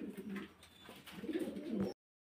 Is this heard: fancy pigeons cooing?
yes